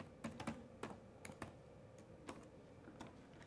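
Password typed on a computer keyboard while setting up an IP security camera system, with soft, close key taps arriving in small irregular clusters over a quiet background.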